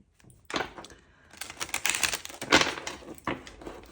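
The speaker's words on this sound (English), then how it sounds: "I'll start shuffling." Tarot cards shuffled by hand, a dense run of crisp papery clicks and riffles that build in bursts and come up close and fairly loud, with no talking.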